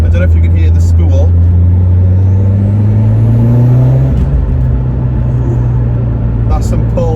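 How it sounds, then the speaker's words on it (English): A GTX3582-turbocharged Mitsubishi Evo X accelerates at 16 psi boost: a loud, close engine drone climbs steadily in pitch, then drops back as a gear changes and starts rising again. "I don't know if you can hear the spool."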